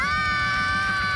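Children scream loudly and continuously in a shrill, high-pitched chorus, close and sustained without a break, in a house where a strict adoptive caretaker is scolding them.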